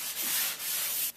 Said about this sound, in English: So I'm going to hit it with the sanding sponge